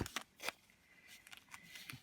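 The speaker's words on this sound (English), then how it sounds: "I'm just going to cut it here with my no stick scissors" Non-stick scissors snipping through duct tape in a few quick, close cuts, with crisp short bursts of snipping and light handling rustle between them.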